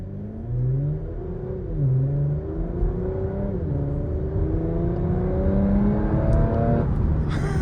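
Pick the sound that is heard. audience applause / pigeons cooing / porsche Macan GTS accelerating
porsche Macan GTS accelerating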